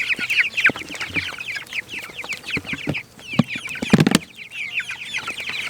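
Meat chickens cluck busily and continuously at feeding time, a dense chorus of close, overlapping calls with a few louder knocks and rustles midway.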